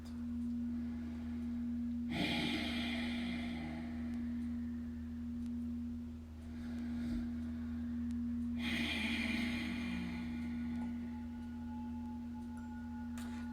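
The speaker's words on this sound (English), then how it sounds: "the texture of your breath is coarse and rough." Coarse, rough yoga breath with a snoring-like texture, two long drawn breaths several seconds apart, close and alone over a steady electrical hum.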